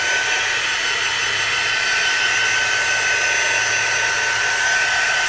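A hair dryer blows steadily to dry spray paint on a steampunk art journal page, a loud, continuous broadband whir held close with no break and no talking.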